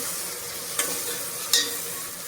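Curd is stirred into a sizzling chicken biryani mixture in a pan, giving a soft steady frying hiss with two brief scraping clatters of the spoon.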